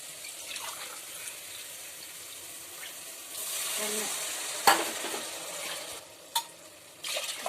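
Quiet kitchen sounds while making pulao: a soft stream of water pouring into a pot, a brief sizzle and a few scraping stirs and clinks.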